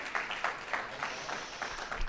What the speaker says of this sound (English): if they're here, give them a round of applause as well